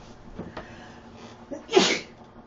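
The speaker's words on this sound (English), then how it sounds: "Oh, I feel a sneeze coming on." A single sharp sneeze bursts out near the end, preceded by a few faint breathy sounds and small noises.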